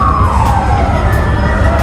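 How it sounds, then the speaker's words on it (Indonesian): Emergency vehicle siren, an ambulance or fire engine, wailing steadily over a busy indoor children's play-city crowd, its tone sliding downward with a constant low rumble of chatter and background noise beneath it. "Kok ambulans itu pemadam kebakaran kayaknya"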